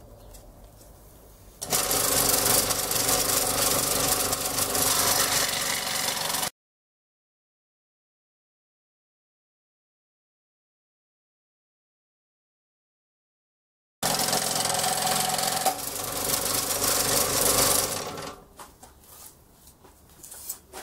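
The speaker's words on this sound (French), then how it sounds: "je vais me servir de ma scie à chantourner" A scroll saw buzzes steadily as it cuts a wooden template, running for several seconds, stopping in a silent gap, then starting again before fading out.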